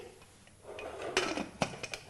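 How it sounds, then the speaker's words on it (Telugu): Metal clanks and clatters of cookware, a lid set down on a pot of toor dal and water with a few sharp knocks close by, no talking. "ఇప్పుడు మూత పెట్టేసి"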